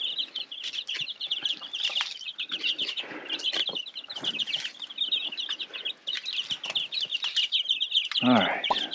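Chickens at a homestead feeder in harsh winter weather, clucking and chirping steadily in a dense flock, with bursts of wing flapping; one louder flapping flurry comes near the end.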